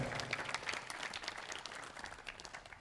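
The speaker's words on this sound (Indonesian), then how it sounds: "Sekali lagi beri tepuk tangan yang meriah kepada narasumber kita yang luar biasa." An audience at a Dharma talk for the Nyepi holiday gives the speakers a round of applause, a fairly soft, continuous patter of many hands clapping with a few sharper claps standing out.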